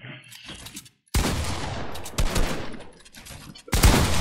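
Gunfire in a Fortnite solo box fight, with sharp bursts of shots that break into sudden loud volleys, a short silent gap, and then a final heavy blast, heard alone with no talk.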